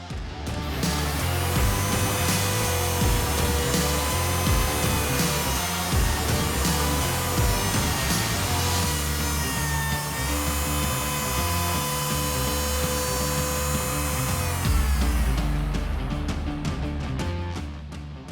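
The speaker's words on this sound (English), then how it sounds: "So I'll set my router up to 4mm deep, and we can router the hinges out accordingly." Wood router cutting 4mm-deep hinge recesses into a wooden door, a loud continuous high-pitched whine with shifting bite as it moves through the wood for about fifteen seconds, then winding down and stopping.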